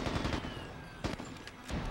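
Gunfire from a sniper in the PS2 game Mercenaries, heavy cracking shots with a few sharp reports standing out over a rumbling battle background, fairly loud and close.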